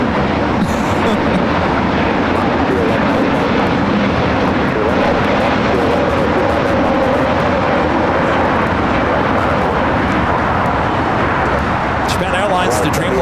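A Boeing Dreamliner airliner at LAX gives a loud, steady jet roar that fills the air throughout, with a voice talking over it.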